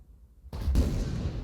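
A single tank cannon shot from a Skorpion G in a tank video game: a short, heavy boom after a brief quiet lead-in, followed by a rumbling tail.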